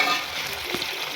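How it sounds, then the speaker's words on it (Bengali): Ginger garlic paste fries in a pan with a steady sizzle, and a utensil stirs it once. "আদা রসুনের পেস্টটা একটু ভাজা ভাজা হয়ে গেলে এটা আমি কালারের জন্য ব্যবহার করবো।"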